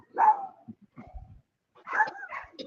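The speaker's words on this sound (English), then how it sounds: "Stop the barking." A pet dog barks at home during a Ford Focus ST engine swap, two loud, close bursts of barking separated by a short pause, with faint scuffling in between.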